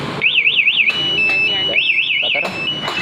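Loud, close electronic siren from a Yamaha R15 v3 motorcycle's MP two-way alarm in break-in mode, with rapid warbling bursts that alternate with steady piercing tones in a cycling pattern.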